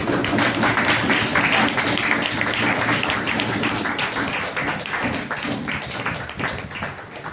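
A Hindi-speaking church congregation claps loudly to welcome an apostle, dense sustained applause filling the room from start to finish and tapering slightly at the close.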